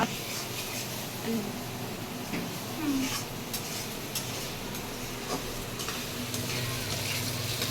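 Spices frying in a pan give a continuous low sizzle, with occasional light scrapes and clinks of a utensil throughout, at a moderate distance and with no talking.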